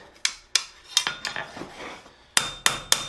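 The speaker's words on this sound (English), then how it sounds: "so hammer this up a little bit more" Sharp metallic blacksmith hammer strikes on steel while forging a wreath hook, a few spaced blows followed by a quick burst of three, each with a bright clanging ring.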